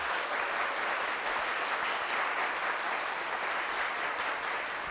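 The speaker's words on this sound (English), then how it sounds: "Let's give her a round of applause as we give away some prizes." Studio audience applauding steadily and loudly, a dense unbroken wash of clapping throughout with no talk over it.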